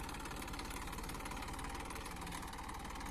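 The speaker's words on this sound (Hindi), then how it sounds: "अरे यो भी बहुत बढ़िया ट्रैक्टर चल रहा है" A Massey 241 tractor engine runs steadily in low gear, a continuous throbbing diesel drone with rapid regular knocking pulses, moderately loud and unbroken, with no voices over it.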